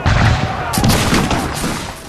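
A dense, loud volley of musket and rifle fire in a staged battle scene of Tennessee Volunteers against the Creeks, overlapping booming shots filling the whole moment with no gap.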